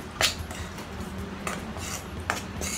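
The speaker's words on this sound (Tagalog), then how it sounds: "Mix them together." Dry ingredients for banana bread being mixed in a bowl, light utensil clinks and scraping against the dish at a few scattered moments over quiet background.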